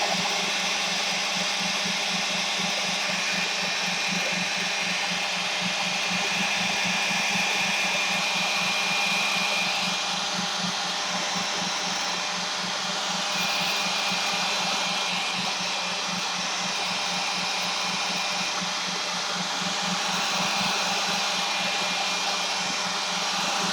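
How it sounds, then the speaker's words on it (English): A hair dryer drying watercolour paint, a steady close whooshing drone with a low motor hum that runs without a break for over twenty seconds, no talk. "I'm going to go quickly with the hair dryer on this just to get that."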